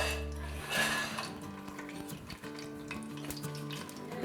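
Whole spices such as star anise, cardamom and cloves frying in hot oil for ghee rice, a close crackling sizzle with a brief louder burst early and faint background hum, no talking.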